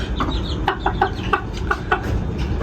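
Chickens cluck in a quick, uneven series of short calls, close by, with no talking.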